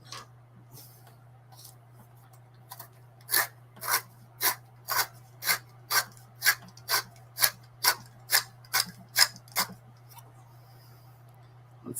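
A manual sharpener, not sharpening properly, rasps in a steady run of about fourteen evenly spaced strokes at close range over a low constant hum, with no talk.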